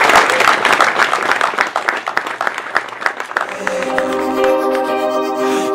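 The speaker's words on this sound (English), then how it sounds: "Give yourselves a round of applause." Loud, dense applause from a crowd of anglers at a bass fishing tournament on Lake Fork, steady clapping that swells to a sustained roar of cheering with voices mixed in.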